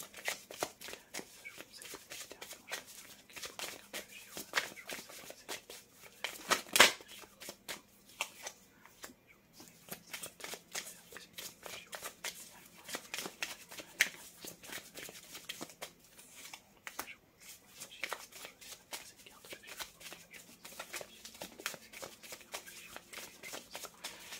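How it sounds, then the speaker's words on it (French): Tarot cards are drawn from the deck and shuffled: a continuous run of quick papery riffles and flicks, close and crisp, with a few sharper snaps and brief pauses along the way. "je sors les cartes et puis après on les découvrira ensemble"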